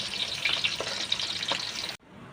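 Sapsap fish frying in a pan, a steady close sizzle and crackle with a few louder pops, cutting off abruptly near the end.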